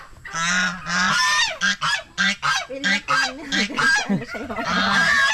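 Loud, repeated honking from geese, a rapid series of harsh nasal calls close by, continuing almost without pause.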